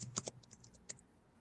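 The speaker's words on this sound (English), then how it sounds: "when you finish typing the name, you hit enter on your board to have it saved" A folder name is typed on a computer keyboard, producing a few quiet, scattered key clicks in a short burst followed by a brief pause and one more tap.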